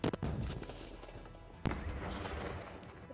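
An RPV-16 thermobaric flamethrower fires on a training range, a sharp loud blast at the start and a second heavy boom midway, each followed by rolling, rumbling noise.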